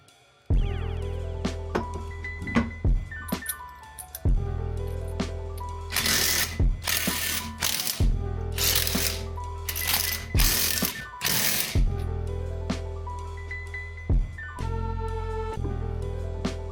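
Ratchet and power tool fastening the rear wheels onto a BMW E36 coupe in a garage, a loud continuous mechanical hum broken by repeated sharp bursts of tool noise and clicks, close up with no talk.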